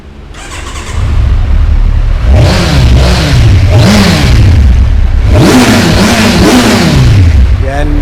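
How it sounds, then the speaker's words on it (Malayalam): Car engine on a stock exhaust revving hard, with repeated rising and falling revs in two clusters, loud and close, after a brief quieter idle at the start. "വണ്ടിയുടെ സൗണ്ടും കൂടെ ജസ്റ്റ് ഒന്ന് കേൾപ്പിച്ചു തരാം. സ്റ്റോക്ക് എക്സോസ്റ്റ് ആണ് വണ്ടി ഉള്ളത്."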